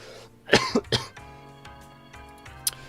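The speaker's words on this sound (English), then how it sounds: "I'm still coughing a little bit" Someone gives a short cluster of three close coughs, ending in a throat clear, over quiet background game music.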